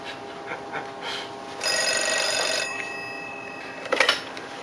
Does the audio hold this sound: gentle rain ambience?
no